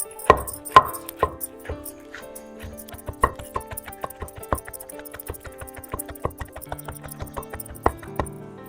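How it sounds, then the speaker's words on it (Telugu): Cucumber and coriander powder are pounded for a chutney, producing a long series of sharp, close thuds in a steady, slightly uneven rhythm, with no talking. "ఇప్పుడు ఈ ధనియాల పొడి అంతా ఇట్లా కలవ దంచుకుంటే మొత్తం ముక్కలు పట్టింది"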